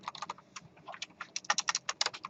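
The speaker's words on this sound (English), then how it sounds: "now this is kind of extreme typing" Rapid typing on a computer keyboard during a programming lecture, a dense run of crisp clicks in uneven bursts that grow louder and faster toward the end.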